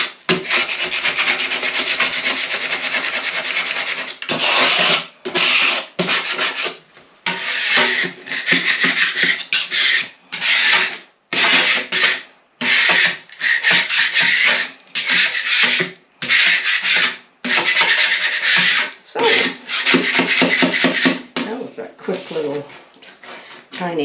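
Continuous harsh scraping of a scraper across a hard tabletop, long strokes broken by short pauses and quicker choppy passes, loud and close throughout.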